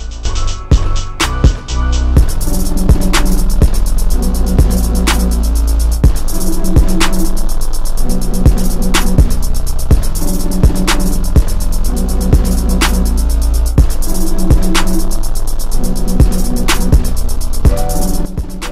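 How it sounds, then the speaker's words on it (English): A hair dryer fitted with a diffuser drones steadily and loudly while drying curly hair, a continuous close airy roar with a rhythmic throbbing pulse, heard alone without talk. "you want to make sure when you're blow drying or diffusing your hair that you get under your hair"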